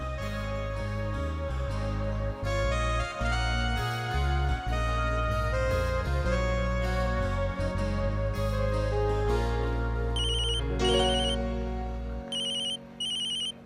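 A phone ringtone plays loud and close as a continuous melodic tune, with bright repeated chiming notes toward the end, for over thirteen seconds with no talking.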